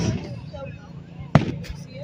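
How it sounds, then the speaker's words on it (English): Fireworks exploding at an outdoor display in Broussard: one sharp, close bang stands out over a rumbling background of distant pops, with people talking throughout. "Man, this is a lot of fireworks."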